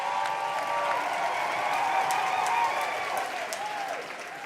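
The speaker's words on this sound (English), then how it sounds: "Keep the applause going for our next poet, Rain Spiegel Johnson." An audience at a poetry slam final at the Roundhouse applauds for the next poet, a thick, sustained wash of clapping with a few whoops that eases off toward the end.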